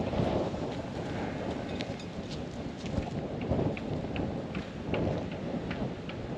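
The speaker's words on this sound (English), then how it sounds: "So we're getting like 30-mile-an-hour gusts right now." Strong gusts of wind around thirty miles an hour roar steadily outdoors near solar arrays, a loud, broad rushing with rising and falling surges and rain-like crackle throughout.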